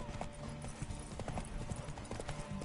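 Roach the horse gallops in The Witcher 3, a steady, close clip-clop of hooves beating in quick rhythm throughout, with faint voices briefly underneath.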